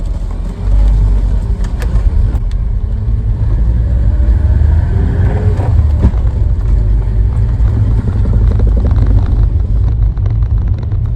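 A 1980 Volvo 345 drives along with its engine droning loudly inside the cabin, low rumble and road noise, with rising and falling engine notes as it accelerates and shifts.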